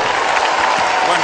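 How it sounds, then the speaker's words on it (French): A crowd applauds a comic performer at a New Year show, dense steady clapping throughout a short burst with some voices mixed in. "applaudissements pour lui"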